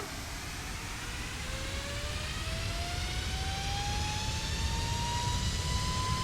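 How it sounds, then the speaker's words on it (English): Jet engines of a Boeing 737 MAX in a video game spool up during a rolling takeoff start, a steadily rising whine over a broad, loud roar, building continuously without pause. "I love to hear the engines firing up when you do a rolling start"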